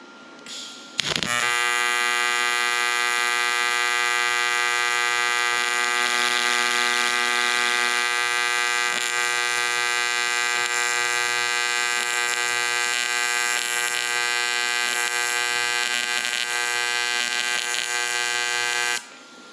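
A YesWelder Firstess 2050 pulse welding at 120 frequency gives a steady, buzzing electrical hum with a rapid pulsing tone, holding evenly for most of the stretch before cutting off near the end.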